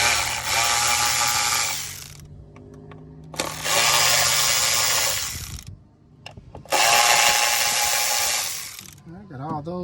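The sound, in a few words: loosening ignition coil bolts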